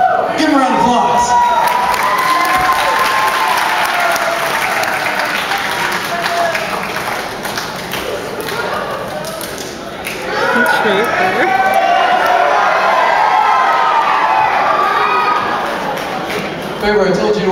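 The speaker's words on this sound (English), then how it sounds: "Give them a round of applause." Audience applause and cheering at a live rock show, a loud sustained crowd roar with shouts and whoops, dipping briefly midway before swelling again, with voices mixed in.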